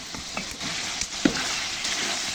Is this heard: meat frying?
yes